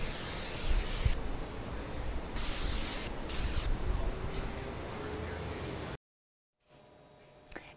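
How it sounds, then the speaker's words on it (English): An aerosol can sprays in long hissing bursts with brief breaks between them, close up, then cuts to near silence. "that's how you spray on bug spray"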